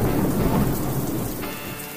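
Steady rain pours down with low rolling thunder rumbling under it, a brief, loud, continuous outdoor storm with no voices.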